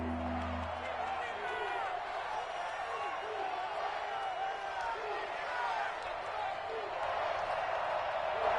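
NFL football stadium crowd, Cincinnati against the Los Angeles Chargers, roars and cheers before a big third down, a dense, sustained distant crowd din under a commentator's talk.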